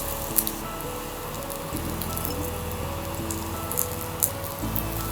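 Vadhanarayanan leaves sautéing in sesame oil in a pan, a steady close sizzle and crackle running throughout, with a few sharp spits and pops breaking above the constant frying hiss.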